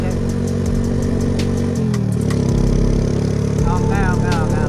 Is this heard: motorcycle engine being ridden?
yes